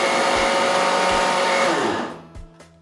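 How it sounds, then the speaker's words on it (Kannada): A kitchen mixer grinder whirs loudly, grinding roasted gram with salt and garlic cloves, then winds down and stops near the end, leaving a few faint clicks. "ಮಿಕ್ಸಿ ಮಾಡ್ತೀನಿ."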